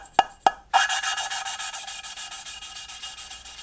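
Valves being lapped by hand in a Hayabusa turbo engine head, with two quick taps and then a steady back-and-forth grinding rasp that pulses evenly, close and fairly loud, with no voices.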